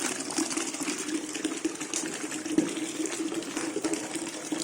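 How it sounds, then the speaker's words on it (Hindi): A container fills from running water, a faint, steady rushing with a low hum beneath, continuous and unbroken with no talking. "इसे पानी भर रहा हूँ"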